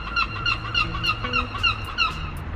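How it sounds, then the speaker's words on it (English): Repeated nasal, squawking bird calls in quick succession, loud and close, several overlapping cries forming a noisy chorus of gulls. "Fucking seagulls, would they shut up?"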